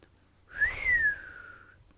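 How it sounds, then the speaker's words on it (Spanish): A single person's whistle rises, then slides slowly downward, lasting just over a second. It is clear and fairly close, heard alone against a quiet background. "Que el caldero me hierva, silbó Lucien cuando bajé por las escaleras."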